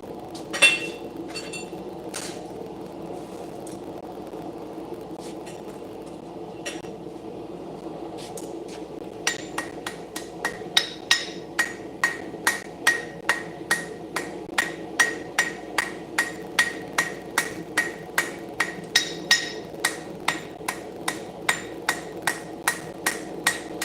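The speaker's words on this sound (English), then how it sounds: "I can hit a lot harder with one strike over there on the treadle hammer." A blacksmith's treadle hammer strikes metal in a steady run of about thirty sharp, ringing blows, preceded by a few scattered hits over a low workshop hum, loud and close.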